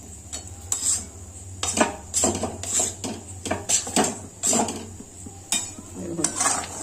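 A metal spoon scrapes and clinks against a pan as sugar melts on the heat, in irregular stirring strokes close by under a low steady hum, with no talking.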